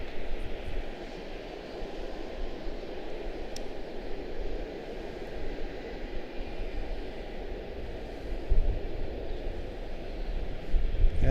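An airliner at Charlotte-Douglas International Airport rumbles steadily in the distance, a broad low engine roar that swells slightly toward the end over outdoor background noise.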